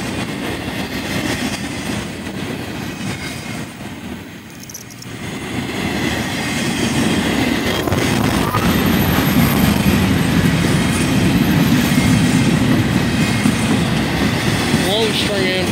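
A CSX freight train rolls past with a string of empty cars at the tail, a steady rumble with clickety-clack wheel noise that swells louder in the second half.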